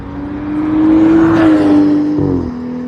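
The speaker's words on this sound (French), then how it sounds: "le 135i à droite en bleu, il marche très très fort" A blue BMW 135i at a night motorsport run drives past hard, its engine holding a loud, steady drone that swells as it nears and then drops away.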